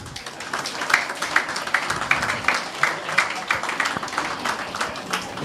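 Audience applause at an award felicitation ceremony, a crowd clapping steadily with uneven rhythm, moderately loud with some voices mixed in.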